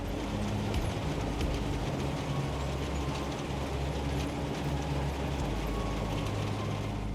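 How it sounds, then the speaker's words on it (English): A Pringles factory conveyor belt carries dough through an auger, giving a steady, dense mechanical rumble and clatter with low droning hum and ratcheting rattles that continue unchanged throughout. "the dough mixture rides on this conveyor belt that sends it through an auger"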